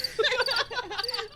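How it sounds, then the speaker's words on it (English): Crickets chirp in a short burst of rapid, trilling pulses, moderately loud and close, used as a comic sound effect after an awkward pause. "Insert crickets."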